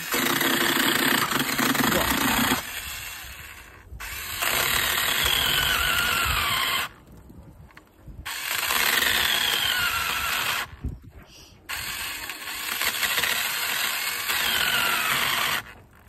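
An electric chainsaw cuts through wood in loud, sustained bursts of motor whine, broken by a few short pauses as the bar bites and eases off.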